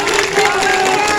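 Loud crowd noise at an outdoor political rally in Bihar, a short dense burst of applause and cheering from the audience, close and unbroken.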